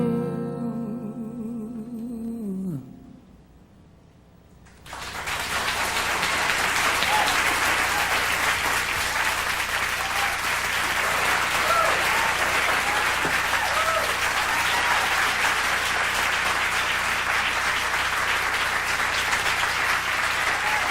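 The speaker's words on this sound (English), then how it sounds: "I'm sure glad all you people are here to clap" Concert audience at an intimate performance bursts into loud, sustained applause that fills the room steadily, following a brief stretch of soft music and a near-silent pause.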